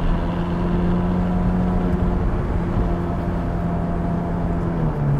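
A Ferrari 458 Spider's 562-horsepower flat-plane-crank V8 drones loudly and steadily at a constant pitch with a rough low rumble, close by, sustained without rises or falls throughout.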